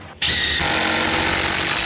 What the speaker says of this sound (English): screw and start the screw while trying to hold it up there in place